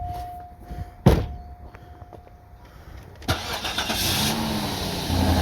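A 2003 Cadillac DeVille's engine cranks and catches after a sharp thunk, then settles into a steady idle, recorded close from inside the car with no talking.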